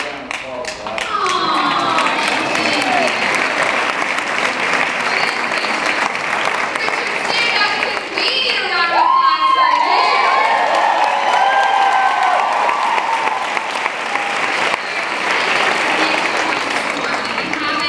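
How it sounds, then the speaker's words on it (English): Sustained audience applause fills the room, dense clapping that swells with a few cheers and whoops midway, then carries on steadily before tapering near the end. "I'm going to give you a round of applause"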